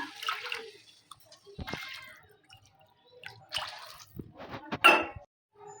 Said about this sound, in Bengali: এখানে আমি 4 বাটি জল অ্যাড করবো